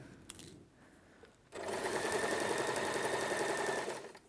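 A home sewing machine stitches a centred zipper, quiet handling at first, then a steady close motor hum with rapid needle chatter for about two and a half seconds before it stops.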